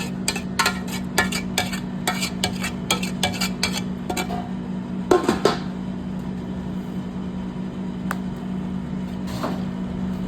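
Vegetables and rice being stirred together in a pot for biryani, with a quick run of scraping spoon strokes and clinks against metal followed by sparser scrapes over a steady background hum.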